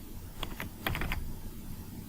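Computer keyboard typing during entry of a production quantity in ECOUNT inventory software: a few quick, close key clicks in two short bursts, with no talk.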